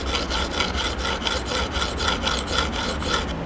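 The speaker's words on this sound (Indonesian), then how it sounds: "Saya cuba asah lagi sikit sebelum saya bertukar kepada grid yang lebih halus." A Ganzo Razor Pro knife drawn repeatedly along a 600 grit whetstone, giving a steady rhythmic rasping scrape of steel on stone, close and continuous with no talking.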